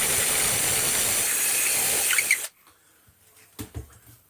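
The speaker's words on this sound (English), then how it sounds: "Drill out the centre, like so" A hand drill bores into the centre of a wooden stick, giving a steady, close grinding whir for a couple of seconds before it abruptly stops, leaving faint handling clicks.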